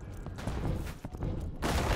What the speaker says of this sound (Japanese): ああなんだ何が起きた爆発したぞ